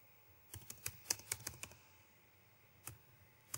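A computer keyboard is typed in a quick burst of crisp, close clicks over about a second, then falls quiet before one final keystroke, like entering a terminal command.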